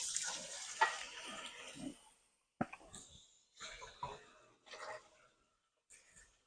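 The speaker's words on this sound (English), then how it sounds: "I'm just gonna throw a half cup of water in there." Half a cup of water is poured into a pot of thick split pea soup, making a few brief, close splashing pours separated by short pauses.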